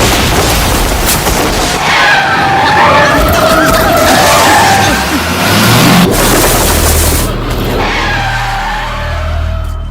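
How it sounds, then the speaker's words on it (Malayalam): A car races up from behind and skids to a stop in front of a bus, with loud tire screech and engine noise building over several seconds before a rumbling idle. "ഒരു കാറ് പുറകിൽ നിന്ന് ചീറിപ്പാഞ്ഞു വന്ന് ബസ്സിന് മുന്നിൽ"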